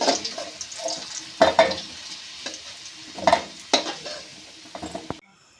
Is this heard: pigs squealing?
no